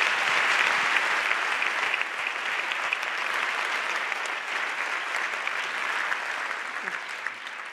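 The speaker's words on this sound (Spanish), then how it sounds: "Un aplauso para ellos." A crowd at an awards gala gives sustained applause, dense and even throughout and slowly fading toward the end, with no talk over it.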